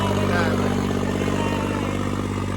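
An old tractor's diesel engine, just started, chugs loudly and steadily up close, its rhythmic thrum continuing without pause, with a voice briefly audible.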